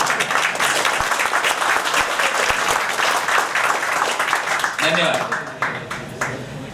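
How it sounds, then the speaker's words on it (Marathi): An audience claps together in a sustained, lively round of applause that gradually thins out, with a voice speaking over the end. "जरा तुम्ही आणि मिळून एकदा छानपैकी टाळ्या वाजवूया"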